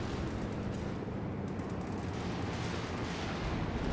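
Stuka dive bomber fire during a Company of Heroes 2 4v4 battle: a dense, steady rumble of distant explosions and gunfire rolling on for the whole stretch, with no clear separate blasts standing out.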